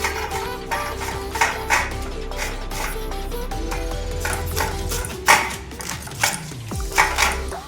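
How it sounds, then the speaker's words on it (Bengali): A knife finely shreds cabbage on a plate, with irregular sharp chopping strokes standing out over a steady tonal background hum. "এবার একদম কুচি কুচি কুচি কুচি করে কেটে নেব"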